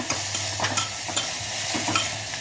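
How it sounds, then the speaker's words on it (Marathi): Salted tomatoes for chole masala are sautéed in a pan, a spoon stirring in quick scraping strokes over a low steady sizzle, with no voices. "मीठ टाकल्यानंतर 3-4 मिनटं मी हे असंच परतून घेणार आहे"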